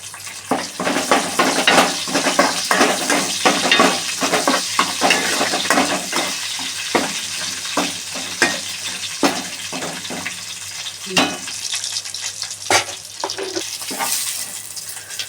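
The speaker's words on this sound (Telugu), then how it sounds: "ఎండుమిరకాయలు కూడా వేసుకుందామండి" Dried red chillies added to a hot tempering of oil and spices for a village-style dal and tomato curry fry with a continuous loud sizzle, broken by frequent scraping and clinking stirs of a spoon against the pan.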